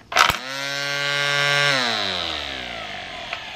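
A WORX WG184 cordless string trimmer clicks on and spins up to a high electric whine, holds steady, then winds down with falling pitch, close by and without voices.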